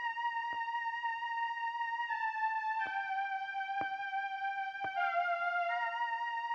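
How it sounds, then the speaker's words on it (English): A sustained synth pad hook in a beat built on an MPC One, a few held chordal notes shifting in pitch over a soft steady backing with light percussive ticks, smooth and continuous, no talking. "I've got this pad kind of sound that I'm using as,"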